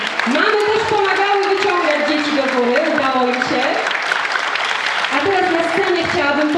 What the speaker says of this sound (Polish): brawa dla nich